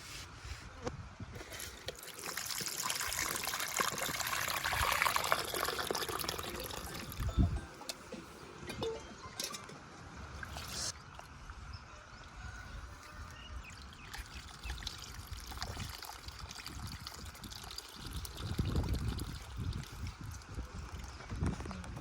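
Tamarind water poured into a large Oriya fish curry, a faint, steady trickling pour with soft splashes that comes and goes against a low background over about twenty seconds.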